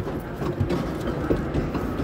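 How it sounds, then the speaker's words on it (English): Small mall choo-choo train ride rolling along indoors, a steady low rumble with soft clickety clatter, moderately loud and continuous, no talk. "on the mall choo-choo train. We're on the mall train."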